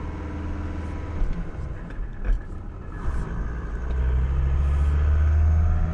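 A vehicle driving at night to the next job, a mini excavator (Mitsuba MM15T) being transported, with a steady low engine rumble and road noise that swells louder near the end; no talking.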